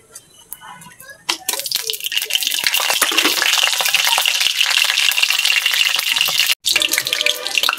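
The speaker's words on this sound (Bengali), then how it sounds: "4-5টা শুকনো মরিচ দিয়ে দিলাম" Dried red chilies dropped into hot mustard oil crackle and sizzle loudly and steadily after a quieter start, with a brief break near the end.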